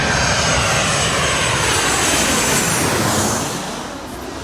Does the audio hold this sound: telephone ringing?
no